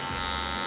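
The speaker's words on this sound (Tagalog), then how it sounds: "Shaver there." An electric shaver in a barber shop buzzes steadily and close, a loud continuous whine with no talk.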